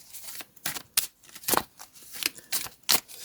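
A tarot deck is shuffled by hand up close, giving a run of quick, crisp riffling bursts in an irregular rhythm, with no talking.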